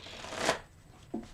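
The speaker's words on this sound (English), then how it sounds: "I'm going to shuffle them 3 more times and then I'll cut them" A deck of tarot cards is shuffled up close: a soft riffling burst, then a quieter tap as the cards settle, all faint and with no talking.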